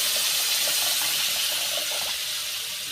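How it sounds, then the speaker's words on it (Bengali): Water pours into a pan of lightly fried mustard spices for a rohu fish curry, making a close, continuous rushing hiss that stays steady for a few seconds and eases slightly at the end. "মশলাটা হালকাভাবে ভেজে নিয়েছি, এইবার জল দিয়ে দেব।"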